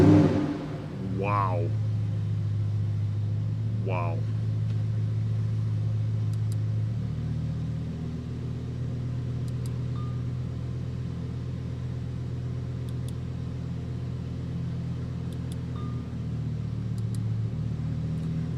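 A Lamborghini Huracan STO fires up with a sharp, loud engine bark, then settles into a deep, steady idle rumble that carries on for many seconds, with a man briefly exclaiming over it.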